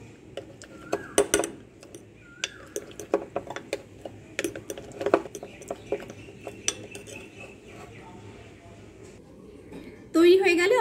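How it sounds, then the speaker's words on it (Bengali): A spoon stirring a homemade face pack in a small bowl, giving irregular close clinks and scrapes of metal on the dish over several seconds, with a louder burst of noise at the end and someone speaking in between. "এক চামচ, দেড় চামচ মতো নেব, খুব ভালো করে এটাকে মিক্স করব।"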